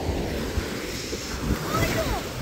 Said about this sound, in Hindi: तेज़ तेज़ पानी की ठल्ले आ रही हैं